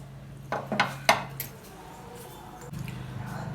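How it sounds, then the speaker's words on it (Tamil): Several sharp metallic clanks and clicks of a pressure cooker lid being handled and opened on cooked dal and banana flower, close up, followed by a low steady hum. "குக்கரை ஓப்பன் பண்ணி பார்த்துப்போம்."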